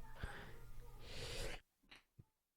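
A person sneezing once during a wrestling podcast recording: a sharp, breathy burst close to the microphone, followed by a couple of soft sniffs and breaths.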